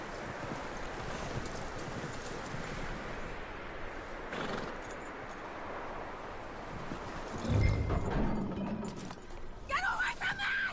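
Horse hooves clip-clop steadily in Red Dead Redemption 2, a near, even walking rhythm under rustling ambience, with a brief whinny-like burst and scattered in-game voices toward the end.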